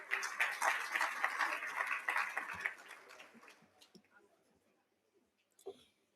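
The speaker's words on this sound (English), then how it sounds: "A round of applause for them." An awards-ceremony crowd applauds the presenters with a dense burst of clapping that holds for a few seconds. It then thins out and fades to scattered claps and near silence.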